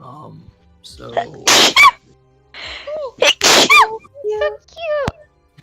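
Two sharp, breathy sneezes burst out a couple of seconds apart, loud and close, surrounded by people talking and a short high exclamation.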